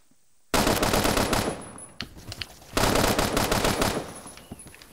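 Two loud bursts of rapid automatic gunfire from the Phantom Forces shooter game, each lasting about a second and a half, separated by a short lull with scattered clicks and faint echoing shots.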